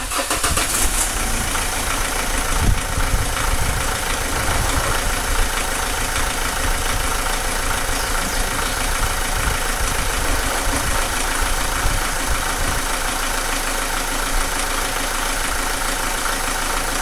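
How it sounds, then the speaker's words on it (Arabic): A car engine idles steadily after a fuel injector cleaning, a continuous even rumble close by, with faint bird cooing in the background. "نخدموا المحرك ونخلوه يخدم معايا حتى هو 5 دقائق"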